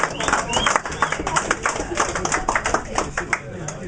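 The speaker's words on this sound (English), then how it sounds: "can we have a round of applause for Mootown" Clapping from a crowd at a retro computer games festival in Aldershot, as a competition winner is announced: dense, steady hand claps run the whole time at moderate volume with no other sound standing out.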